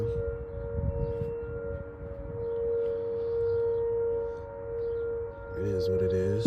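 Civil defense warning sirens sound during a test in St. Louis city, a steady wailing tone held across the clip with a rising-falling sweep near the end, moderately distant with faint background noise.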